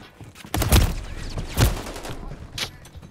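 Video game gunfire in a tactical shooter match: a few loud, close bursts of shots with a short exchange of fire, spaced out over a couple of seconds.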